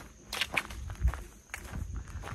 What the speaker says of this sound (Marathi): बस आणि चपलांचा आवाज आहे.